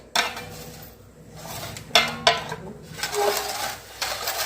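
Roasted flour being stirred with syrup in a pan for a traditional Gujarati jaggery adadiya pak, a metal spoon scraping and clinking against the pan in irregular close knocks and scrapes.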